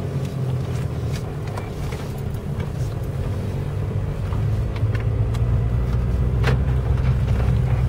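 Car engine running steadily with a low, droning rumble that swells slightly toward the end, heard from close by with no talking.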